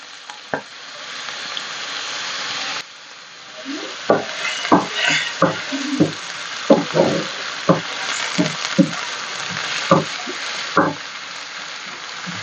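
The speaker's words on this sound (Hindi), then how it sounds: "ये देखिए जो मसाला हमने बनाया था मूली का, थोड़ा सा प्याज डालते हैं।" Radish masala for moli kofta fries steadily in a pan as onion is added, with a continuous sizzle broken by repeated sharp scraping stirs, fairly close and without talk.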